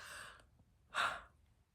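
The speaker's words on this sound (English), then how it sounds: "I'm gonna yawn" A single late-night yawn, tired and drawn out, rising to a breathy peak after a softer exhaled lead-in; close and fairly quiet with no speech.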